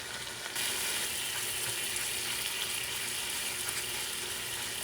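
A homemade adobo sazon mix for beef heart sizzles steadily in a pan, a dense broadband hiss that swells after a brief quieter start and carries faint scrapes of stirring, close up with no talk.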